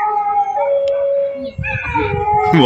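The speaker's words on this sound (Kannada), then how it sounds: "ಯಪ್ಪ ನಾಯಿಗಳು ನೋಡಿ ಹೆಂಗೆ ಕೂಗಾಡ್ತಾವ." Several dogs howl loudly and close by in long, wavering, overlapping cries that rise and fall, with a brief lower yelping break midway before the howling swells again.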